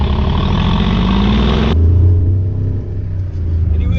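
A 720 bhp Mercedes G63 idling in comfort mode gives a deep, loud rumble, first with a broad roar that abruptly drops to a steady low burble, heard close up with no talk.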